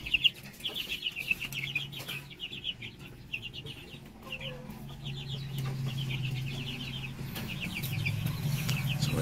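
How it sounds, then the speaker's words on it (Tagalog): Young chicks of the J380 bloodline, just over a month old, give repeated bursts of soft high clucking and peeping, close and clear over a low murmuring background. "So ito na yung mga sisiyo natin dito, more than 1 month"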